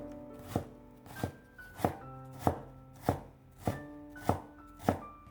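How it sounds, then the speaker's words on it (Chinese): A knife dicing carrot on a cutting board: about eight evenly spaced, crisp chops close by, each a sharp knock against the board, with no talking. "再改刀切成细丝， 最后切成小丁。"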